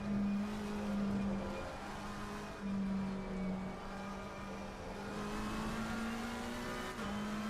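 Race car engine in a sim racing video game at Kyalami, a steady high drone that holds at sustained revs, dips briefly on shifts and lifts, and stays loud and continuous throughout.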